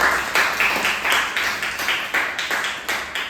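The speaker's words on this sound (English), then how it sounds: "Let us give him a big round of applause" An audience at a club meeting applauds a speaker, a loud, steady round of clapping with a slightly rhythmic, unified beat throughout.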